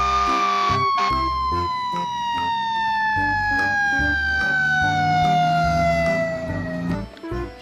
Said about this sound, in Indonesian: Ada sebuah mainan mobil pemadam kebakaran.